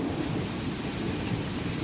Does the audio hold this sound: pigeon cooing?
no